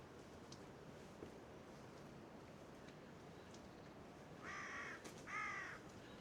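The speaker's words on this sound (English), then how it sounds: "Carrion crow and wood pigeons." A carrion crow caws twice in quick succession late on, moderately near, over a steady wash of wind and ambient outdoor noise near an old church on the Isle of Wight.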